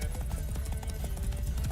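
Horse hooves clip-clop at a steady trotting rhythm in the video game Witcher 3, close and moderately loud, with a faint low background.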